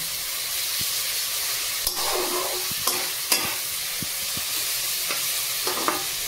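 Lote (Bombay duck) fish frying in hot oil with a steady sizzle, stirred with a few distinct scraping knocks of the spatula against the pan, close and alone.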